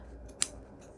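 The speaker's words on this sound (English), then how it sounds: "I'm just going to use regular fabric scissors for this part." A single crisp snip of scissors cutting through fabric, quick and close, in an otherwise quiet room.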